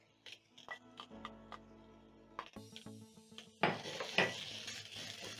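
Minced meat cooking in a pan for spaghetti bolognese, with clattering and scraping against the pan at first, then a louder, steady, rough frying hiss over the last couple of seconds.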